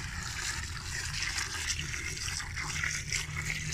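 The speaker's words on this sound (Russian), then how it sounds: "Сейчас мы нальем чистой скважинной водички в огурцы." Clean well water is poured into a jar of cucumbers as a steady, close, hissing stream of liquid runs for a few seconds without a break.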